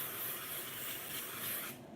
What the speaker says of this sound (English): So what I do is I'm gonna spray some Pam